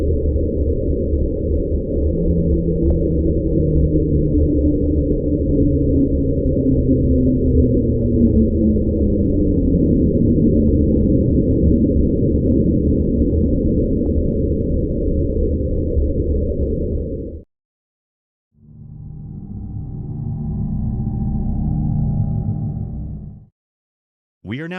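The SlowDown underwater ocean sound, believed to be an iceberg running aground, a long low rumbling drone with a slowly descending tone, then a brief gap and a shorter lower burst, with no talk.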